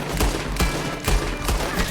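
Gunfire in Red Dead Redemption 2, a rapid string of loud, close shots at roughly regular intervals, about five reports over two seconds.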